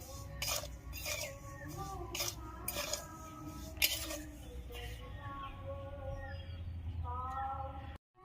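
Semolina is stirred in a hot wok, with repeated scraping strokes of a spoon against the metal in a steady rhythm, close and fairly loud. Brief voice-like tones come from the background.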